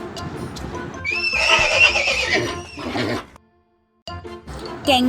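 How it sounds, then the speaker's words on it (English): A horse whinnies loudly and close, its long, wavering neigh rising and falling over about two seconds, with clip-clop hoofbeats beneath. Then a brief silence, and a second burst of sound. "horse,"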